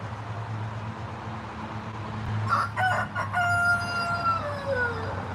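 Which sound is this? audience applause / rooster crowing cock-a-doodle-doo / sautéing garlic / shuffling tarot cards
rooster crowing cock-a-doodle-doo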